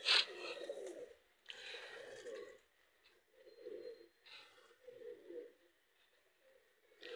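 Pigeons coo close by in a series of soft, low, throaty bursts with short pauses between them.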